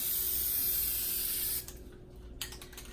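A Rustoleum appliance epoxy spray can hisses in one steady close burst for about a second and a half, then stops, followed by a few faint clicks and a short second puff.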